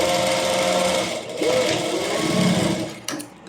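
An electric sewing machine runs in a steady close whir while stitching the shoulder seam of a frock, pausing briefly and then running again before stopping with a clunk.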